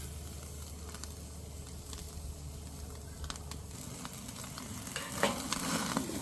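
Steak sears in a hot pan with a steady, close sizzle, broken by brief clatters and spatter bursts as the meat is repeatedly flipped.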